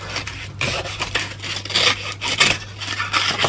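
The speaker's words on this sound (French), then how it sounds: "Donc, là pour le couper, on le plie. Moi je prends un réglé pour le couper." A blade draws along a ruler through a folded thin wooden sheet, making a series of dry, rasping scrapes in short repeated strokes that sound close and fairly quiet.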